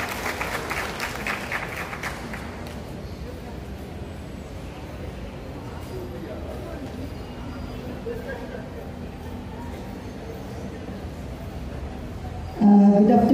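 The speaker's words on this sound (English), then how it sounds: "I give her a round of applause" Applause from an audience greeting a municipal mayor, a dense burst at first that fades into a low, steady background murmur, followed near the end by a sudden loud noise close to the microphone.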